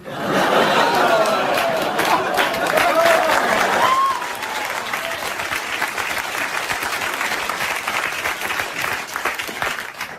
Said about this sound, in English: What the hell did they applaud that for?